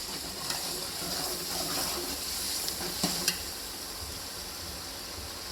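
Garlic paste sizzles in oil in a frying pan for a D.I. Khan-style sobat dish, a steady hissing fry close up with a few light scraping clicks of stirring, no voices.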